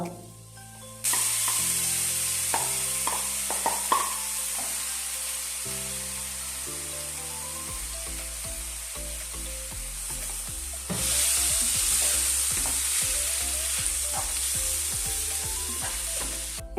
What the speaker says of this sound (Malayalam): എണ്ണയൊക്കെ ചൂടായതിന് ശേഷം നമ്മൾ കട്ട് ചെയ്ത് വെച്ചിരിക്കുന്ന സവോള ഇഞ്ചി വെളുത്തുള്ളി ഇതെല്ലാം ഒന്ന് ഇട്ട് കൊടുക്കാം